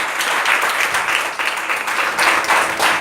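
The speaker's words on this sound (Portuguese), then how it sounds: "Dê uma salva de palmas para Jesus" A congregation at a church service breaks into loud, sustained clapping, a dense rolling wash of applause that pulses slightly as it continues.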